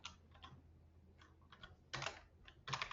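Keys clack on a computer keyboard while coding HTML and JavaScript in Sublime Text, in short irregular bursts that grow louder toward the end, with no voices.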